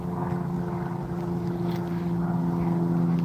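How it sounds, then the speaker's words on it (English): Steady, droning engine hum of a plane passing overhead near an airport at Fort Buenaventura in Ogden, Utah, with a sustained low tonal rumble that stays loud and even throughout, with no talking. "You can probably hear that plane overhead."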